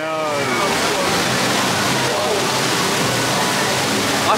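Heavy rushing and splashing water on the Chiapas water ride at Phantasialand, a loud, continuous wash of spray and churning water close by, with voices faintly mixed in.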